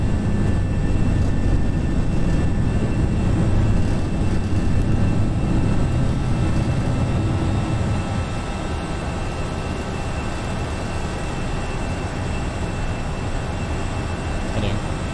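An FSLabs A321 airliner climbs after takeoff from Dallas in Prepar3D, its engines giving a steady, loud, broadband roar and hum that eases slightly partway through, without spoken voices.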